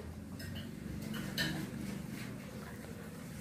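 A little girl plays with small toy pots and utensils, giving faint, light clinks and taps of tiny dishes at close range, scattered over a quiet room background.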